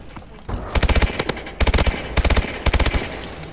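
Gunfire in Call of Duty: Advanced Warfare comes as several rapid automatic bursts, loud and close, separated by short pauses.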